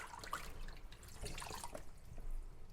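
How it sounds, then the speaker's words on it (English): Water trickling and dripping in a big kitchen sink as okra is rinsed, soft irregular splashes and drips under a steady watery wash, close and moderately quiet. "So I'm just starting off by rinsing all of this okra in a big sink full of water."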